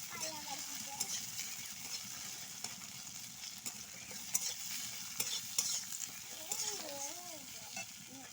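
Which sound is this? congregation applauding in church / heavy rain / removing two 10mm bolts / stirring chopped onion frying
stirring chopped onion frying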